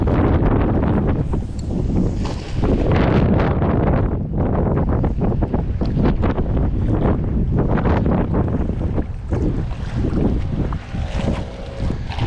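Loud, blustery beach wind of about 30 mph, gusting to 40, roaring across the microphone in uneven gusts, with faint splashing of water beneath.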